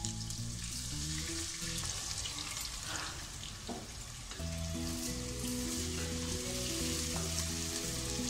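Steady oily sizzle of onions frying in a pan toward golden brown for mushroom biryani runs throughout, close and continuous, while music plays underneath.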